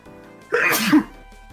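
A single sharp sneeze bursts out at close range, a short explosive burst amid a quiet tabletop role-playing game session.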